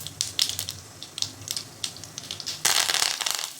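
Mustard seeds crackle and pop in hot oil, with irregular sharp spitting bursts that grow louder and denser toward the end.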